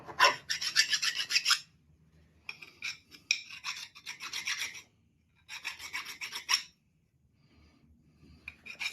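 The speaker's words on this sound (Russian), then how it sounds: "Вот ее немножко еще напильником вот здесь." A hand file rasps across a screwdriver tip in three bursts of quick back-and-forth strokes, close and crisp, separated by short quiet gaps.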